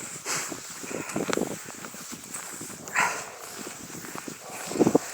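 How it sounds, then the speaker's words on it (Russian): Dogs barking in a snowy forest during a winter ski walk, a few scattered distant barks and yaps over steady outdoor ambience and faint crunching movement. "Вон собаки лают, гуляют с собачками"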